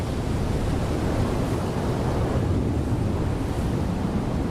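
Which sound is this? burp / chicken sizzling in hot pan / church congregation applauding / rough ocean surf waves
rough ocean surf waves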